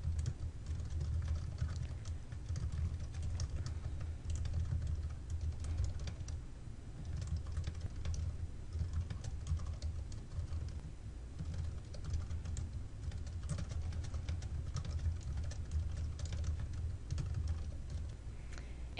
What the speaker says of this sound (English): you can type your feedback in the feedback box